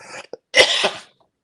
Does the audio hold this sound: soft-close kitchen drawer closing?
no